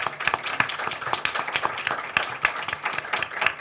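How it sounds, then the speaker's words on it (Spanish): A small group at an academic poetry reading claps, individual hand claps audible in a quick uneven patter, fairly close and moderately loud. "Un aplauso más"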